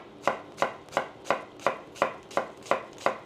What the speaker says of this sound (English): I just cut a smaller half.